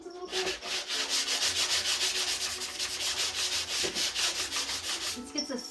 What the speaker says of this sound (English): I'm going to use my sanding block to sand down the paint a little bit